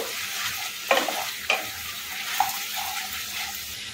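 A spoon stirs egg chilli sauce with cornflour in a frying pan for a Bengali steamed egg chilli: a close, continuous sizzle broken by three distinct scraping strokes against the pan, with no voices.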